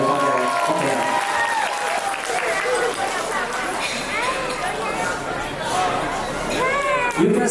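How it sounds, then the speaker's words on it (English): Wedding banquet guests applauding at a hotel reception, a sustained round of clapping with chatter and a host's voice over it, filling the room at moderate loudness. "俾啲掌聲我哋女方嘅屋企人。"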